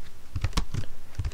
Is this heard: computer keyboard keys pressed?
yes